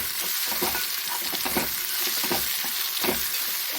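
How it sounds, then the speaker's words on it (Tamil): Roasted, skinned peanuts being stirred in a pan while making bottle gourd kuzhambu, a steady scraping and rustling with a soft sizzle underneath, repeated stirring strokes at close range. "சேர்த்துட்டு நல்லா கலந்து விட்டுக்கலாம்"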